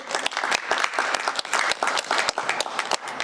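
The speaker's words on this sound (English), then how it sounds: "Let's get a round of applause for Mr." An audience claps for a panelist being welcomed on stage at a tech event, a lively burst of fairly close, sharp individual claps forming steady applause throughout.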